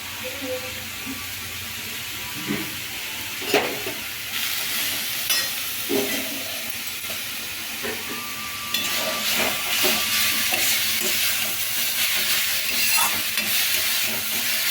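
Grated beetroot sautés in a pan for halwa, a continuous soft sizzle and steamy hiss with intermittent scraping stirs, growing louder and denser partway through.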